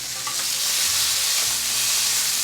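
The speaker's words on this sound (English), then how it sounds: "You want to hear that sizzle." Steady, dense sizzling of potatoes frying in a hot pan, a continuous crackling hiss close by with no voices.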